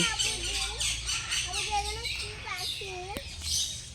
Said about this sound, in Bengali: এর ভেতরে পাখি আছে